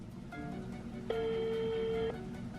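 A phone call ringing on the line, a single steady electronic ring tone lasting about a second against background room noise.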